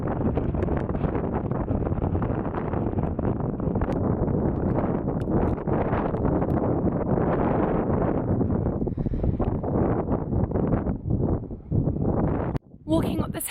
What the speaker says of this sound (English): Walking up this hill, it is super windy